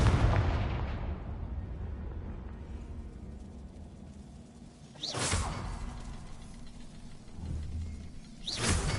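Two Confringo fire spells burst in Hogwarts Legacy, each a rising whoosh ending in a loud blast over rumbling game ambience, a few seconds apart, with no talking.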